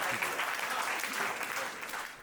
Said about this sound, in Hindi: जोरदार तालियों के साथ पीयूष का स्वागत करिएगा।